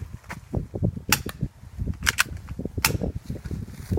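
A Sig Sauer P226 airsoft pistol fires outdoors in the snow, giving several sharp, snappy cracks spread over a few seconds above a low, fluttering background rumble.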